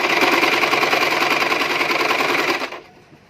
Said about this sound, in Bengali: আমি এখন এর উপর দিয়ে একটি সেলাই দিয়ে দিব।